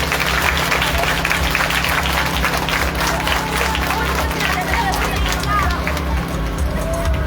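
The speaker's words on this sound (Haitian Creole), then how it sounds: "nous battons un gros bravo pour la présence." A crowd at a school food fair claps in sustained applause, a dense steady patter of many hands lasting several seconds.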